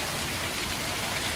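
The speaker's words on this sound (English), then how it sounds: "The next, not only pouring rain, but hail." Dense, steady hiss of pouring rain mixed with hail during a sudden Scandinavian spring downpour, loud and unbroken over a short stretch with no voices.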